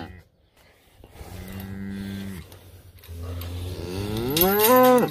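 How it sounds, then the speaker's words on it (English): Cattle moo loudly near a round bale feeder on a farm, with one long lowing call followed by a second, stronger moo that rises in pitch, with no talking. "Moo. Moo cow."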